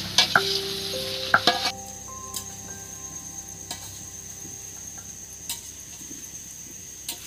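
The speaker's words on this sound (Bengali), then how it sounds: "আলুগুলো ভালো করে একদম ভেজে নিতে হবে" Potatoes frying in oil for a village-style Kashmiri aloo dum, giving a steady, soft sizzle with a few sharp clinks and stirring knocks near the start, then quieter crackle alone.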